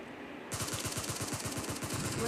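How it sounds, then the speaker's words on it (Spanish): Automatic gunfire from the video game PUBG bursts in after a brief quiet moment, a rapid, evenly spaced string of loud shots that continues to the end without a break. "Ay, me está disparando otro por la espalda."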